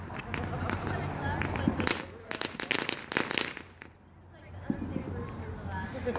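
Firecrackers and fireworks pop in rapid crackling bursts, a dense string of sharp bangs that pauses and then resumes more sparsely, heard fairly close outdoors.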